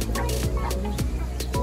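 A flock of flamingos at Ueno Zoo in Tokyo gives short, nasal, honking calls, several quick cries overlapping like poultry, fairly close against a low steady background murmur.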